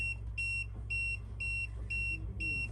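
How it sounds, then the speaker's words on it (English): A boat's anchor drag alarm beeps high and electronic in a steady repeating pattern, six short tones over a constant low engine-like hum, aboard a Fountaine Pajot Saba 50 catamaran. "Anchor drag alarm."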